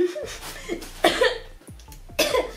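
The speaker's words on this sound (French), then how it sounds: "Pourquoi je tousse?" Three short, harsh coughs from a nearby person, spaced about a second apart, with quiet room sound between them.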